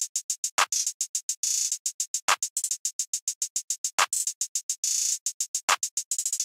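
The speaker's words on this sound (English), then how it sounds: "I just had this basic clap pattern which sounds like this" Recycled clap sample laid in a basic hip-hop beat pattern, four sharp, punchy claps landing at regular intervals over a steady, fast run of crisp hi-hat ticks and brief rolls, with no voices.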